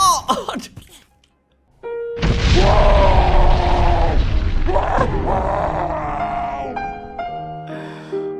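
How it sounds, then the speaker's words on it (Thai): Bomb boat blowing up in a video game: a short lull, then a sudden loud boom that rolls into a long rumbling blast with groaning, distorted tones fading over several seconds. "ใครกดก็เหมือนกันเนี่ยยังไงก็ระเบิด"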